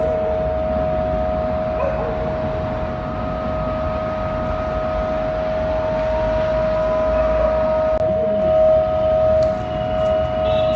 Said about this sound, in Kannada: ಸೈರನ್ನ ಸದ್ದು.